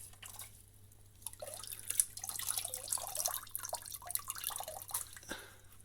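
Water squelches and drips as an aquarium canister filter sponge is squeezed in a basin, soft gurgles and trickles up close.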